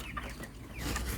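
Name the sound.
broiler chickens clucking in a poultry house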